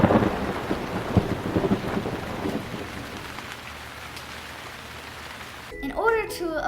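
Steady heavy rain pours down with deep thunder rumbling beneath it throughout, before a brief burst of unrelated tonal sound near the end.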